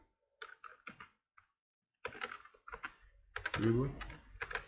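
Fingers type on a computer keyboard in short irregular bursts of close key clicks separated by pauses, with a voice talking over part of it.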